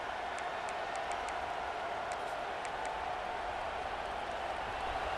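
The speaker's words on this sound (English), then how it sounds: "the crowd coming to life here, trying to help this defense down in the red zone" A college football stadium crowd at Arkansas versus Florida makes a steady, distant roar of cheering and applause with a few faint whistles, fairly quiet throughout.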